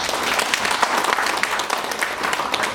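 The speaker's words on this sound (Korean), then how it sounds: "다시 한번 우리 김갑고 처장님께 힘찬 박수 부탁드립니다" Steady audience applause for an official at a Korean farming policy forum, a dense, even patter of many hands clapping close by, with no speech over it.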